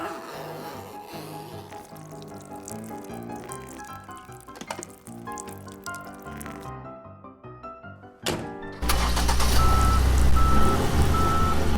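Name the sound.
car reversing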